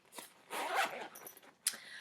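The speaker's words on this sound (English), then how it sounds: "I just stick it in and zip it up" A travel toiletry bag's zipper is pulled shut up close: a few quick rasping strokes, then a sharp final zip, with no talking.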